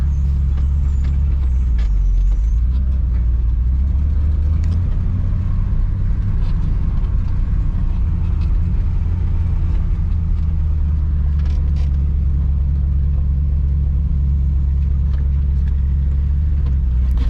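Log truck easing backward up a hill in a sawmill yard, a heavy, steady diesel rumble close by with a low drone throughout and faint clicks and hisses on top, no voices.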